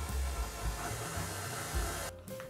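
A stand mixer with a dough hook runs with a steady motor whir and hiss over a low rumble, briefly cutting out near the end before resuming more quietly.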